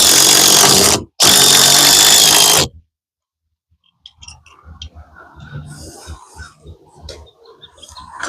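Power drill driving screws into a gable roof beam on an 8x8 tiny house, two loud close bursts of whirring separated by a short pause, followed by quieter handling noises and faint outdoor birdsong.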